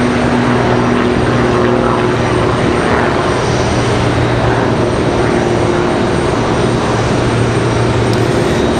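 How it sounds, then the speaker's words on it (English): Aircraft engines roar at Raleigh-Durham International Airport, including jets near a 777 preparing to push back; a loud, continuous broad rumble with a steady whine, constant in level throughout, with no voices. "All kinds of aircraft here this afternoon."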